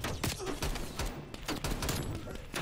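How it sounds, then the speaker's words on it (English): Milano 821 submachine gun fired in a video game, with repeated bursts of rapid shots spread through the clip and a voice talking over the gunfire. "I'm just shooting randomly at this point"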